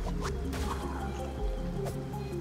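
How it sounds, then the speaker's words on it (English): Items splash and drip as they fall into water in the video game Tunic, a brief liquid sound set against steady game music and ambience. "Oh wow, I just dropped them in the water."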